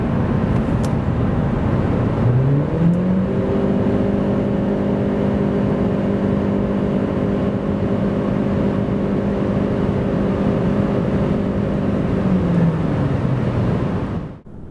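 A 2026 Chery Tiggo 4 Hybrid SUV's 1.5-litre engine pulls hard from 90 to 140 km/h in sport mode, its tone rising then holding a loud, steady drone for about ten seconds before tapering away.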